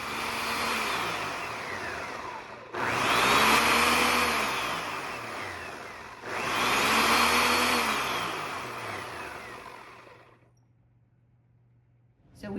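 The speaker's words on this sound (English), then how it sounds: "cutting it in smaller pieces to fit it in the food blender, smoothie maker, whatever you have, but we need to make a puree out of it" A food blender purees watermelon pieces in three loud, whirring runs of several seconds each, the motor pitch rising and falling as it labours, before it stops and leaves a faint low hum.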